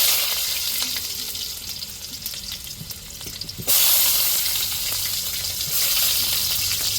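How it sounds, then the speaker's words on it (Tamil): Onions sizzle in hot oil with mustard seeds in a pan for a fish dish, a steady close frying hiss that jumps louder midway as they go in, with light stirring scrapes. "இப்போ வெங்காயத்தை சேர்த்துக்குருவோம்."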